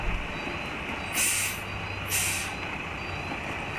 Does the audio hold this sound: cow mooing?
no